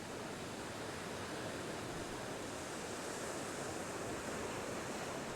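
Rough North Sea surf breaks off the island of Sylt, a steady, loud, broadband wash of waves with some wind that carries on without pause and with no voices over it.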